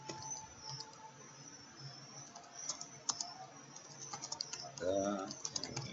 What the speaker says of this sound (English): I'm going to type just a little something to make the program look decent